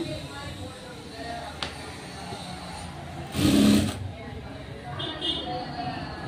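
A sewing machine stitching blouse fabric in a short burst of whirring near the middle, close and moderately loud, with someone talking before and after the run.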